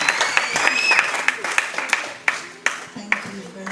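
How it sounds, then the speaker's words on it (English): Scattered applause from a small crowd at a high tea fundraiser, uneven claps rising and thinning over a few seconds, with voices murmuring underneath. "and a round of applause, please."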